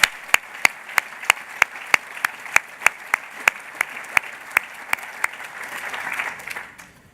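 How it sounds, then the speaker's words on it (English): A conference audience applauding speakers and workshop presenters, heard as sharp, evenly spaced claps over a soft background wash that thins out and fades near the end. "Can we just take a moment to give them a round of applause?"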